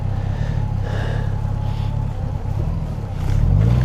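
A Honda F6B touring motorcycle with a 113-horsepower engine pulls hard, its loud, steady low drone rising toward the end amid heavy wind rush, with no talk over it.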